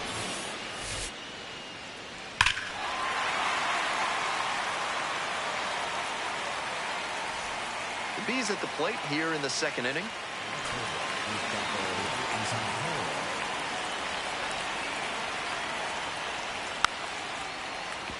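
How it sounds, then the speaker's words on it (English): Steady rain falls over a baseball stadium in MLB The Show 26, a constant hiss of drops under a commentator's voice, with a sharp knock early on and a louder burst of talk midway. "We're coming right up against it with the way this rain is coming down"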